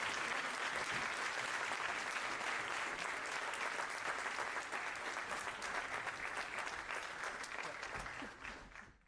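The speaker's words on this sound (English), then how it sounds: "Let's welcome him with a huge round of applause." A large audience at an IISc talk breaks into sustained, dense applause, many hands clapping steadily at close range and tapering slightly toward the end.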